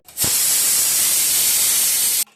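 A pressure cooker cooking beef over a medium flame lets out a loud, steady jet of hissing steam. The whistle is close and continuous for about two seconds, then cuts off abruptly.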